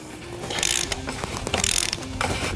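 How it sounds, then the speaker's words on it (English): A ratchet clicks in two quick bursts of rapid ratcheting while loosening the oil filter cap on a Jeep Gladiator 3.6 engine, close and fairly quiet, with a faint mechanical hum underneath. "And then we're gonna break loose the oil filter cap."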